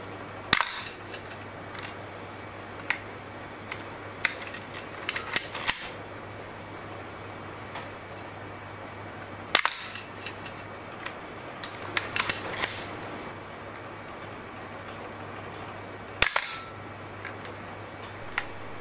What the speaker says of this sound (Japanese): シャッタースピードが30分の1と15分の1の時のみ、シャッターを切った後にシャリンと音がするそうです